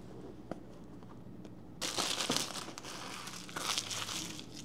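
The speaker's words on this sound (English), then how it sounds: "All I'm gonna do is just kind of cut plastic right here." A knife slices through plastic packaging on a DJI Mic 2 wireless microphone box during an unboxing, producing loud crinkling and tearing that starts abruptly partway through after quiet handling taps.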